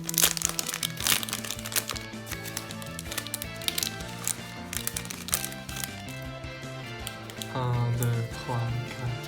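A Yu-Gi-Oh booster pack from a 2021 Ancient Battles mega-tin is opened, giving crinkling foil and crackling plastic up close, with brief taps and rustles under background music, and people talking.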